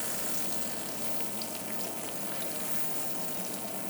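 Wagyu ground beef steaks sear in a pan with a steady, dense crackling sizzle, even and close throughout with no talking.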